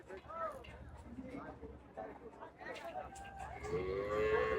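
Cattle at the Hazratpur livestock market give several low moos amid the crowd's babble and general market noise, with the calls fairly close and clear.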